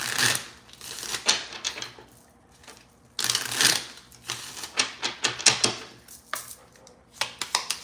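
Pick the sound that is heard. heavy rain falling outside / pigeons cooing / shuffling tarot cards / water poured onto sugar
shuffling tarot cards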